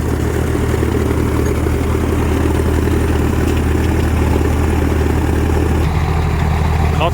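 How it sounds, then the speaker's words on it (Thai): A combine harvester's four-cylinder engine drones steadily and low throughout at a constant idle-like pace, loud and close, with a slight change in tone near the end. "เครื่องยนต์ 4 สูบครับ"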